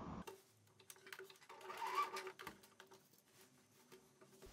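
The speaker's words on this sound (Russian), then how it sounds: "Проложили строчку" A sewing machine stitching a seam on knit sport-style trousers, a faint, steady mechanical patter that runs for a few seconds at close range, with no voices.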